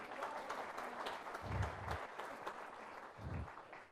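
Audience applause at a creators' summit, steady but fairly quiet clapping from a crowd, carrying on evenly with a few low thumps mixed in.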